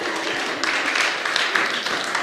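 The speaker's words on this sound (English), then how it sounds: "I'm clapping for you in your dream now." Crowd applause with scattered hand clapping at a women's gathering, a steady dense wash of claps held throughout at moderate loudness, mixed with cheering voices.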